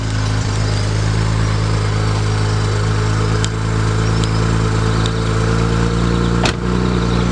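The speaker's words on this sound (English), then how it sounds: "Time's about to get a little cold start for you guys. Let's see how a stock exhaust sound like." A BMW with its stock exhaust idles steadily after a cold start. The deep engine drone is loud and close, with no voices over it.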